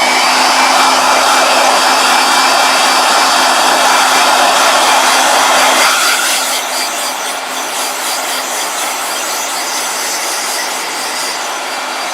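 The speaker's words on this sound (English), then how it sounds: "blow dryer" A blow dryer runs loudly and steadily, then drops to a lower setting about halfway through and keeps whirring alone with a constant rushing hiss.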